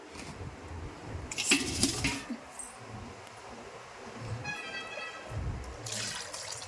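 Water is poured from a container through a cloth to strain it, for dried mango pickle. The quiet splashing and trickling come in a few short bursts, with faint background noise between them.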